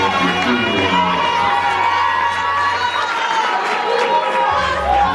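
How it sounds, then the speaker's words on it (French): An awards ceremony crowd at a hotel cheers and applauds, a loud continuous wash of cheering, shouting and chatter with clapping mixed in, voices audible throughout. "Merci de bien applaudir"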